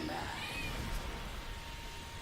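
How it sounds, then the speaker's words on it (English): A house cat meows faintly a couple of times in the background. A constant hum and game noise sit over it, and there is no speech. "And of course the cat's going to start meowing"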